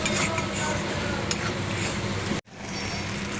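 A curry sautés in plenty of oil in a pan, a continuous sizzle with scraping and stirring, a spatula click near the middle and a brief drop-out before the frying resumes.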